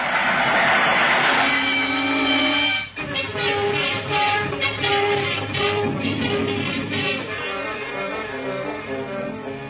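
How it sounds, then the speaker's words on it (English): A train rumbles and clatters along the tracks, loud and close, with a sharp jolt early on followed by a steady rolling roar. "Here comes the train now."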